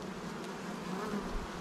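Feral, mite-resistant honey bees buzz in a steady, dense drone close by, a continuous swarm hum with no voices, lasting under two seconds.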